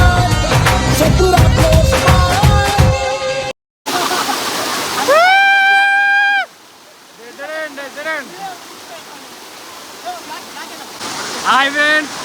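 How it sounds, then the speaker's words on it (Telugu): At Maredumilli, a waterfall rushes with a steady broad roar that is largely masked by loud music and excited whooping voices. "వాటర్ ఫాల్కి వచ్చేసాం"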